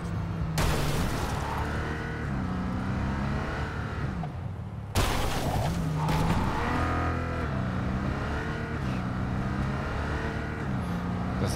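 A very fast car in Cyberpunk 2077 roars as it accelerates and shifts, the engine pitch rising and dropping in repeated sweeps, loud and close, with a sharp burst midway.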